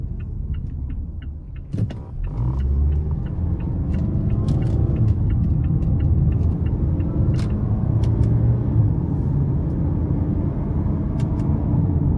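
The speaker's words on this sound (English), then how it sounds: "Yeah, the shifts are just really, really good with this 6-speed." Cabin sound of a 2017 Mazda CX-5 Touring 2.5 with a 6-speed automatic at about 102,000 miles, steady engine and road rumble while driving, with a dip around a shift and a few faint clicks, no talking.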